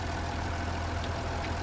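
A tractor engine in Farming Simulator 19 idles at a steady, low, continuous drone, with no voices over it.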